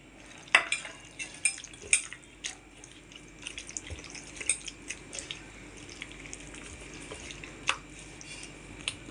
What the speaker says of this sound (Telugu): పనిగట్టుకుని రుబ్బోస్తుల ఉన్నప్పుడు ఇలా చేసేసుకోవటమే ఇందులో కలిపేయాలి